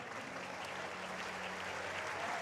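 Baseball crowd at a college game between Minnesota and Oregon State applauding as a pitcher leaves the mound, a dense, steady clatter of clapping that fills the stands at moderate distance.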